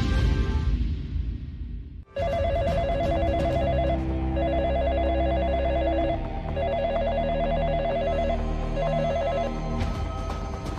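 A telephone bell rings in repeated bursts with short gaps between them, loud and close, over a continuous background hum, with no voices heard.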